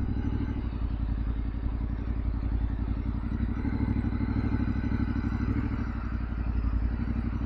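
Yamaha Ténéré 700 motorcycle engine running at slow speed during low-speed practice, a close, steady low rumble with an even pulsing idle throb and faint clatter throughout.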